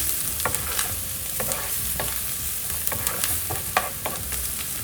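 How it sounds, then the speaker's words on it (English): Garlic and a bay leaf fry in a pan with onions, a close steady sizzle broken by repeated sharp pops and stirring scrapes, no one speaking. "I'm going to put the garlic now and the bay leaf, and fry that for a minute."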